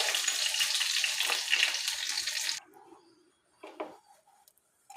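Sliced onions hit hot cooking oil left from frying paneer, giving a loud, dense close-up sizzle for about two and a half seconds that then drops abruptly to faint scattered crackles and a soft stirring scrape, with no talking.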